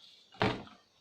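Old, rotten wooden door of an old pahadi village house being shifted, giving one dull, hollow knock or thud after a quiet start, then a short fading scrape.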